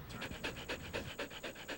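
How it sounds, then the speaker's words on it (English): A dog rescued from New Orleans after Hurricane Katrina pants close by in quick, even, rhythmic breaths, about eight in under two seconds, soft and with no other sound. "This dog came from New Orleans."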